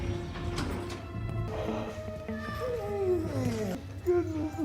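A cat in a film meows repeatedly in short, rising-falling cries while people talk over and around it.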